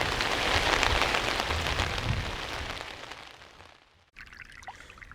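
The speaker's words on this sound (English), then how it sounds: "But tonight, it's raining." Steady rain falls at night in the Bears Ears desert, a dense, loud hiss of drops on surfaces that thins and briefly drops away before resuming.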